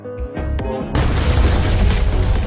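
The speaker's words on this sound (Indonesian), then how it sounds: "Dia kemudian melemparkan 2 granat." Two grenades explode in a dramatic scene: loud deep booms with sharp pops up front, then a sustained heavy rumbling blast that fills the rest of the moment.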